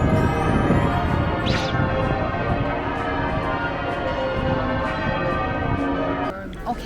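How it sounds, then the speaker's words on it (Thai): Church bells peal steadily at a London church on a day with a Mass, a dense continuous ringing that fills the whole stretch, with some voices nearby. "เข้าใจละว่าทำไมวันนี้ระฆังถึงตีนานกว่าปกตินะคะ"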